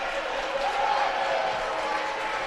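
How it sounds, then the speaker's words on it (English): A home crowd at a basketball game roars steadily as the Quakers take the court, a dense, loud wash of cheering voices filling the gym throughout. "As the Quakers take to the court, they hear it from their home crowd."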